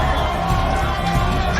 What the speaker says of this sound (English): Sentinels fans starting to make a little bit more noise as well